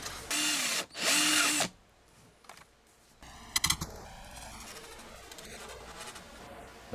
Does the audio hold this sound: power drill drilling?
yes